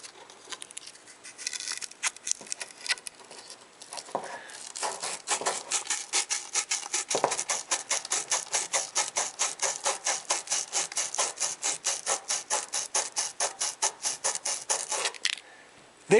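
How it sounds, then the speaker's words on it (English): Sand cloth rubs rhythmically back and forth around a burr on copper pipe, producing a long run of quick, even scraping strokes, close and moderately loud with no talking. "apply pressure on the sandcloth with the other hand and rotate the sandcloth back and forth around the burr until it's removed"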